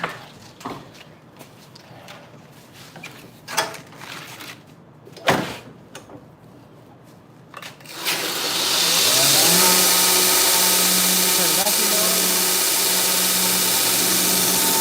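A power sander fitted with a 60 grit belt spins up partway through and runs steadily and loudly while shaping a knife handle, after a stretch of quieter shop clatter and handling noises.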